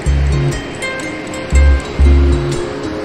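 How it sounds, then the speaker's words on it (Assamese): Sea waves wash onto the shore at night on Puri beach, coming as loud, low, rushing surges that rise and fall in short bursts. "সাগৰৰ পাৰত আহিছোঁ মই এতিয়া ৰাতি।"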